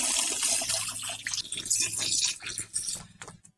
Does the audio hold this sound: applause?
no